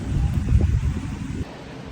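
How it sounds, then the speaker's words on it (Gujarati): Low, rumbling wind buffeting the microphone in gusts outdoors in hot weather in the USA, loud for a moment and then dropping to a quieter hiss. "પવન છે ને ભાઈ"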